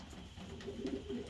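Racing pigeons coo in a loft, a soft low burbling repeated through the clip at moderate volume with faint background noise and no voices.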